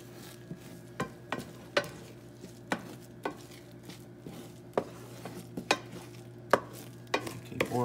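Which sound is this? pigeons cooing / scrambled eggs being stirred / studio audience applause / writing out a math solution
scrambled eggs being stirred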